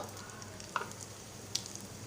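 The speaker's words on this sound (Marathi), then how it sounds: "तेल गरम झालेलं आहे आता आपण हिंग घालणार आहोत मोहरी जिरं" Asafoetida, mustard seeds and cumin sizzle faintly in hot oil, a low steady hiss with two sharp pops.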